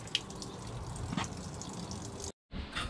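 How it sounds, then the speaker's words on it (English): Water drains from the flush tank of a Thetford C402 camper toilet in a motorhome, a soft, steady trickle with faint drips that cuts out briefly near the end before resuming. "make sure you drain out your flush like so"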